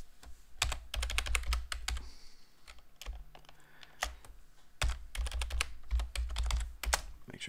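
A password is typed on a computer keyboard during a Linux Mint upgrade, with quick irregular bursts of close, crisp key clicks and short pauses between them.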